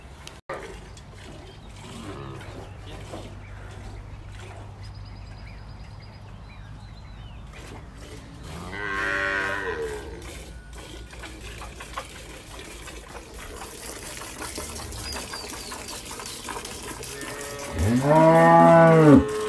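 A dairy cow on a farm in rural El Salvador moos during hand milking, a long drawn-out call near the end following quieter lowing and trickling milk sounds, with no talk.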